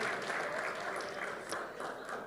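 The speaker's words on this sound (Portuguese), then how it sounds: "Vamos aplaudir ao Senhor" Church congregation clapping for the Lord during a worship service, a steady wash of many hands at moderate distance, sustained without a break throughout.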